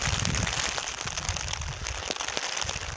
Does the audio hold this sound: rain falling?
yes